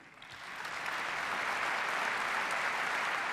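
Applause in the German Bundestag for Chancellor Angela Merkel, a broad sustained ovation swelling up in the first second and then holding steady and fairly distant.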